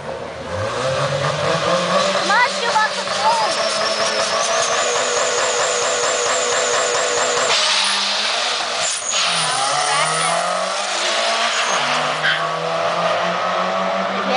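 A turbocharged Honda Civic with a D16 engine drag races an 05 Mini Cooper down a strip, engines screaming loudly and climbing through repeated gear shifts with steady high-pitched whine over the full run.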